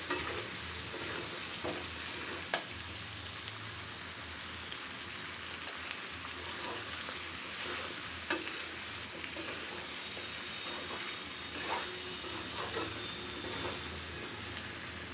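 Chicken liver and potatoes sizzle in a pan as they are stir-fried, a steady crackle throughout with scattered sharp clicks of a spoon scraping and stirring, and no talk.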